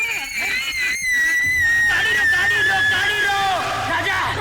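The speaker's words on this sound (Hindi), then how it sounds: "ये उसी की चीख है" A woman's high, sustained scream rings out in a Bollywood film scene, loud and wavering over several seconds, with a short burst of other voices at the start.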